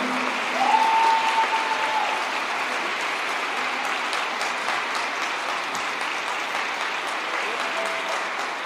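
An audience applauds a political speech by a Morena party figure in Mexico, a steady, fairly distant wash of clapping sustained throughout, with a brief tonal sound near the start.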